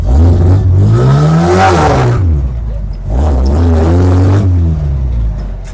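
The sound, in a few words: Volkswagen owner-type jeep engine revving and accelerating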